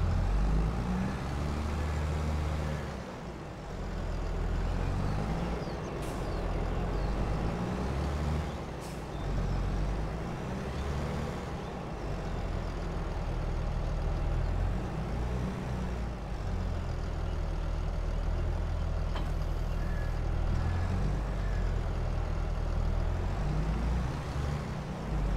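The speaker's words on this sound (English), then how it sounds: "I need to get that out, so I will use the Fant tractor." A Fant tractor engine in Farming Simulator 22 runs as a continuous low, rumbling drone, steady throughout with slight shifts in pitch and a couple of brief hissing bursts like air brakes.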